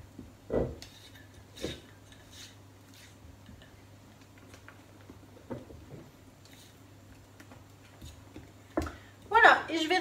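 Cake batter being stirred in a bowl with melted, cooled butter for a chocolate-raspberry Yule log sponge, giving scattered soft clinks and scrapes of a utensil against the bowl with quiet gaps between them.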